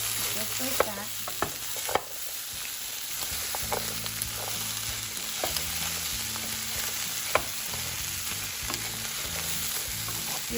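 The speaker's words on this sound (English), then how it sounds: "so now I'm going to put in my potatoes" Evenly cut potatoes sizzle and fry in a pan for pork with potatoes in green salsa, with a steady close crackle throughout and occasional sharp scrapes and knocks as a utensil stirs them.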